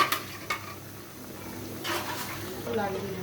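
Pakon pitha frying in oil, a soft sizzle under occasional clinks of utensils and stirring, with a voice talking faintly in the background.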